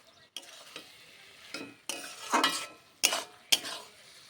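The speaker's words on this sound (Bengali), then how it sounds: "এরপর আমি ভালো করে ধনেপাতা কুচিটা দিয়ে নাড়িয়ে নেব" Cabbage chorchori with fish head and chopped coriander being stirred in a pan, a low sizzle under several distinct scraping strokes of a spatula, close and fairly quiet with no talk.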